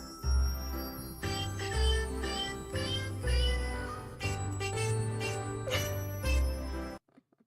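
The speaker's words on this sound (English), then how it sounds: "Cute cats sing happy birthday." A recording of cats meowing the Happy Birthday song, with sustained melodic meow-like notes in a sung rhythm over bright chiming accompaniment, loud and continuous, then stopping abruptly.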